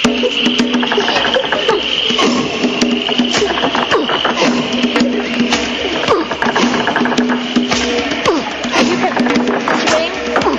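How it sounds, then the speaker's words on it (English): Dense, continuous chorus of crickets and insects chirping steadily, mixed with frog croaks, loud and unbroken throughout as an ambient nature soundscape. "hear the crickets?"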